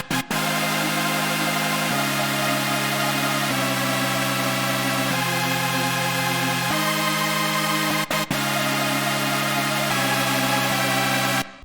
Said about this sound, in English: So I started with this synth from Serum.